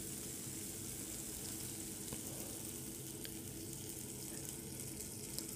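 Boiled lentils go into a pan of tomatoes for Bengali-style tomato dal, with a steady wash of sizzling and watery pouring that runs evenly throughout, close and moderately loud, with no talk.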